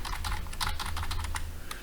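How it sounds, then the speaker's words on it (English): Quick typing on a computer keyboard, a rapid run of light, irregular key clicks close up over a low steady hum, with no speech. "I'm just going to type some gobbledygook here to show you what's going on"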